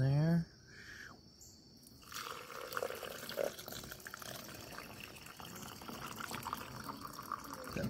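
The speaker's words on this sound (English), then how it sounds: "Pour it in there." Sumac tea pours through a muslin cotton bag filter, a soft trickling and splashing of liquid that starts after a brief voice and continues quietly for several seconds.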